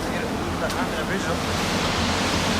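Dense, constant rushing of turbulent river water under a bridge, loud and close, with a faint voice partly buried beneath the roar.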